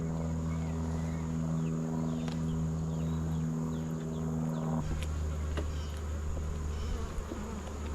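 Honey bees buzz steadily at a productive beehive, a dense continuous drone close by with a low hum that shifts partway through.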